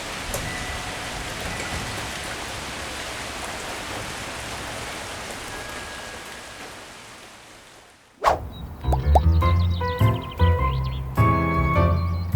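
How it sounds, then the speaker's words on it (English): Steady rain pours outside as a broad, even hiss for about eight seconds, then the wash drops away and is followed by sharper, clattering sounds and short tones. "It's raining. It's pouring."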